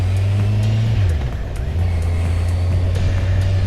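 Heavy road traffic near a busy Saturday market at North Weald, with a car engine droning close by and shifting pitch as it moves, plus a steady rumble of other passing vehicles.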